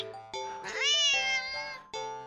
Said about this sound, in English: the cat meows sharply at you